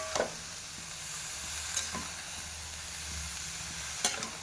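Cabbage stir-frying in a pan with a ground paste of cumin, ginger and chilli, giving a steady soft sizzle and a few sharp clinks of stirring, close by with no talk.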